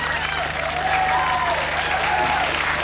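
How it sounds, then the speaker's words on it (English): Studio audience applauding and cheering at a televised talk show, a dense, steady wash of clapping with a few raised voices, loud and continuous throughout. "you're all cheering"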